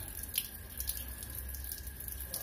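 Water trickles and drips out of the small holes of a cleaned carburetor in a quiet, faint, steady dribble with a few brighter drops, and no one speaks.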